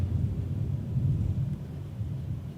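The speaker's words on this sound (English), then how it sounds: "Now, it's a lot of thunder, it's a lot of lightning in the background." Low, continuous rolling thunder from a thunderstorm over the Meridian area of Lauderdale County, a steady deep rumble that swells and eases without a sharp crack, heard alone with no talking.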